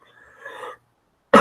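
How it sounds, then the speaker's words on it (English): A man's single sharp cough bursts out loudly and close after a stretch of soft breathing and a short pause. "I will be coughing throughout this broadcast."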